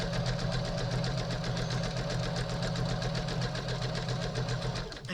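A sewing machine stitches along the edge of a ribbon on a quilt, giving a fast, steady mechanical whir and clatter with an even rapid rhythm that continues unbroken and close by.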